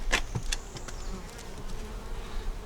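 Honey bees buzz around small nucleus hives in a bee yard nursery, a dense close drone with individual bees passing near, steady throughout with no voices.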